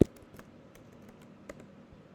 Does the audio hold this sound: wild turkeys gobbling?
no